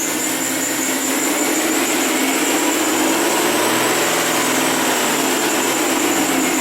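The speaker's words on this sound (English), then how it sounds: "I'm going to see if I can give it some throttle snaps here" Hyundai Sonata engine with a misfire, held at raised RPM as the throttle is worked, a steady loud mechanical roar with little change across the stretch.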